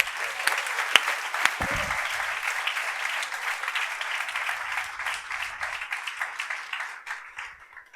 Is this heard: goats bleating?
no